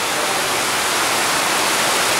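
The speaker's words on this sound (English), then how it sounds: "it is pouring down here out here in Guatemala" Heavy rain pours down outdoors in Guatemala, a dense, steady broadband hiss with no pauses that fills the whole short stretch at a loud level.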